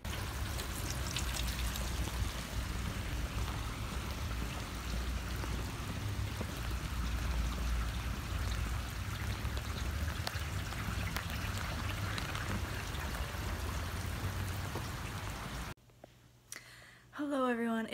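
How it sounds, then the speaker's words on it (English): Heavy rain pours steadily and fairly close for about fifteen seconds, a constant dense patter. It stops abruptly, and a person starts talking afterward. "It is raining like crazy today."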